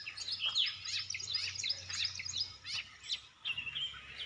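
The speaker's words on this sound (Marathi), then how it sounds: "सकाळ सकाळी पक्ष्यांची किलबिलाट ऐकायला येत आहेत" Birds chirp and twitter through a morning at a house in the Konkan set among coconut and areca palms, with dense overlapping high calls and a low steady hum beneath, and no talking.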